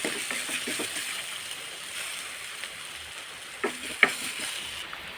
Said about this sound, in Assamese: কেৰাহীত এতিয়া তেল দি তাতে পিঁয়াজ, আদা নহৰু পেষ্ট দি অলপ সময় ভাজি